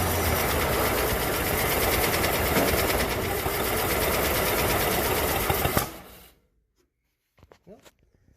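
A 1937 Hudson Terraplane engine runs roughly at first start, a loud, close, buzzing mechanical clatter with uneven knocking that cuts out abruptly after about six seconds, followed by a few faint clicks.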